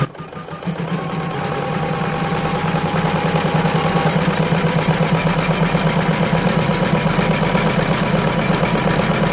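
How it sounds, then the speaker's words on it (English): An embroidery machine stitches out the last colorway on a vinyl glasses holder held in the hoop, giving a steady, fast mechanical whir and rhythmic needle clatter that runs loud and unbroken throughout, with no voices. "Carefully return the hoop to the machine and stitch out the last colorway."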